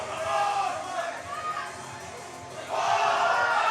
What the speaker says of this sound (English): It's very hype in the crowd right now